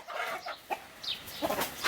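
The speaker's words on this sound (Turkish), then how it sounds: "Tavuklar." Chickens cluck nearby in short, scattered calls, with brief squawks rising over a quiet background.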